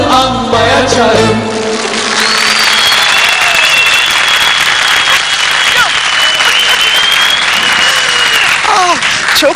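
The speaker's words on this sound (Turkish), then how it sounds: "Güzel alkışlarınız için teşekkür ederim" A television studio audience applauds steadily at close range after a sung performance on a 2005 Turkish talk show, with a held voice and some sung or spoken notes running over the dense clapping.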